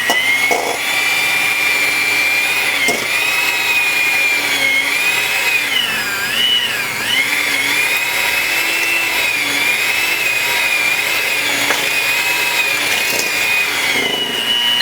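An electric hand mixer beating cheesecake mixture with sugar, a loud steady whirring motor hum that wavers in pitch as the beaters move through the batter, continuous and close, no voices.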